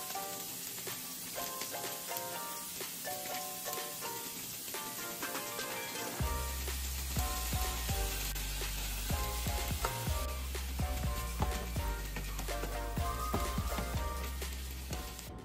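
Ground beef with peppers and onion sizzles and fries steadily in a pan, seasoned with a Southwest spice blend, growing louder and denser partway through as the meat hits the hot surface, with occasional stirring scrapes and no talk.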